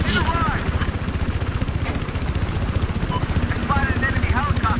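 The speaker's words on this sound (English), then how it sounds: "Careful, look out for their attack chopper." Attack helicopter in the video game Battlefield 4: a steady, loud rotor chop with a fast regular beat and a droning engine underneath, and voices talking over it throughout.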